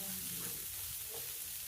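Wheat snack frying in a pan gives a steady, soft sizzle with light stirring, faint and continuous throughout.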